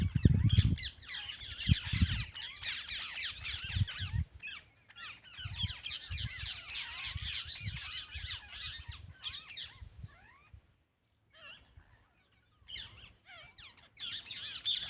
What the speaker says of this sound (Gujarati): પોપટ પણ બોલે